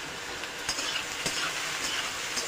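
Bottle gourd fries with pumpkin lentil dumplings (kumro bori), salt and turmeric in a pan: a soft, steady sizzle with occasional light stirring scrapes, close and quiet, with no voices.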